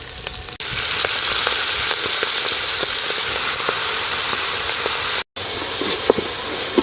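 Fenugreek leaves frying with onion in a pan, a loud continuous crackling sizzle with occasional stirring clicks, close and unbroken apart from a brief dropout, no speech.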